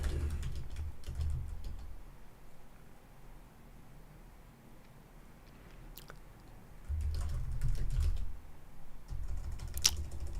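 Keys clatter in irregular bursts on a computer keyboard while code is typed, fairly close, with quieter pauses between runs of keystrokes and no speech.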